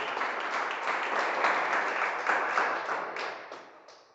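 Congregation clapping in a church service as an offering of applause, a full, dense round of hand claps that holds steady for several seconds and then tapers off toward the end.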